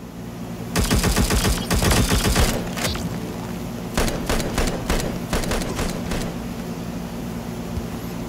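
Rapid bursts of automatic gunfire from the video game Heroes of Warland rattle loudly for about two seconds, followed by a pause and then shorter clustered volleys, with no talking over them.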